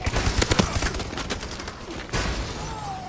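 Rapid gunfire from an Advanced Warfare Domination match crackles in dense bursts of close, loud shots, a brief pause, then another volley, with the rattle of automatic fire dominating the scene.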